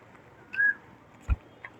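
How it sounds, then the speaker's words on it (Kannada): Birds at a busy city bus stand, likely pigeons, give a short whistly call and a couple of faint chirps over quiet background murmur, with one low bump partway through. "ಪಾರಿವಾಳಗಳು ನೋಡಿ."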